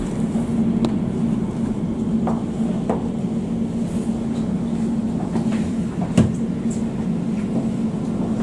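Steady interior rumble of an Elizabeth Line train running through London toward Paddington, a continuous hum with a few faint clicks and rattles, no voices.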